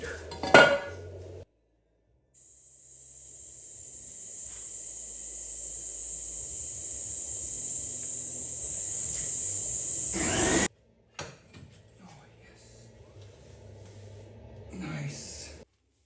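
A suction extractor draws oil out of a vehicle axle with a long, steady hissing slurp that runs for several seconds and then cuts off, bracketed by clanks of metal tools.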